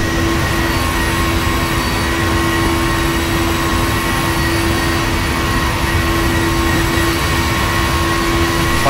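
Pegasus Airlines jet airliner engines in Flight Simulator X on a Vienna to Istanbul flight just after takeoff, a constant loud broadband roar with steady tonal whines and no change in level.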